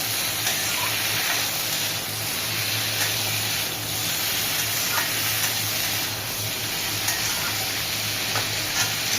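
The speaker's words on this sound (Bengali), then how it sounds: "করলা ভাজাতে জল দেওয়ার দরকার পড়বে না, স্লো আছে ঢেকে ঢেকে এটাকে ভাজা করতে হবে।" Bitter gourd slices fry slowly on low heat in a covered pan with no water added, giving a steady, even sizzle and hiss that continues alone throughout.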